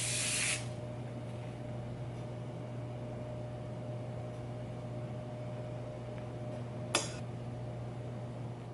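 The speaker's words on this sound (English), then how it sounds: "I am going to spray with some Pam so it doesn't stick" A can of Pam cooking spray gives one short hissing burst over a baking dish at the start and a second quick spritz near the end, with a steady kitchen hum and fan-like drone underneath and no talking.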